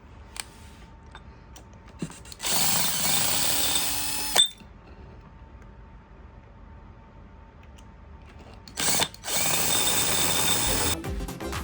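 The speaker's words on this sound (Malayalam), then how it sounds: "ഓക്കെ, ഞാൻ ഈ രണ്ട് സ്ക്രൂ വെച്ചെടുത്തിട്ട് നമുക്ക് നോക്കാം." Power screwdriver driving two screws to mount a rear LED tail light on an ARRMA Typhon 6S RC car, heard as two sustained loud whirring bursts separated by a quiet pause, with small clicks and handling taps in between.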